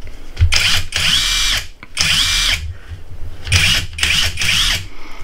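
A Wakyme 21V Max cordless impact wrench whirs in three loud bursts, revving up and cutting out between them, close and without speech.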